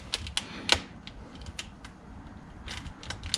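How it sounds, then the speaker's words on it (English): A few sharp, dry clicks and snips at close range as a razor blade cuts a rubber grommet, short scraping cuts spaced irregularly over a quiet background. "I'm gonna cut it with a razor blade."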